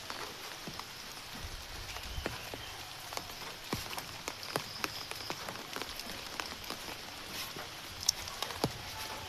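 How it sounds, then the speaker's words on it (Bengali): Steady light rain patters on a surface, with scattered drops ticking throughout and no voices. "বৃষ্টি নামছে"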